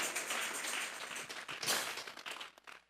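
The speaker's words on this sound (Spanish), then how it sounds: "Vamos a regalarle ofrenda de palmas al Dios de la gloria" A church congregation claps together as an offering of applause to God, a broad wash of many hands that swells in the middle and then thins out toward the end.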